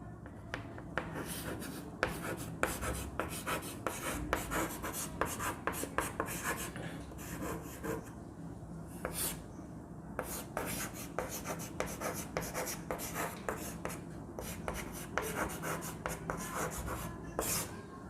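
Marker or chalk strokes on a classroom board during an Indian geography lesson, a steady run of short scratchy squeaks and taps that pause briefly and resume, close and fairly quiet with no talking over them.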